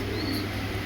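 Pigeons of a pair offered for sale coo steadily at close range, a low continuous murmur filling the whole second with no talk over it.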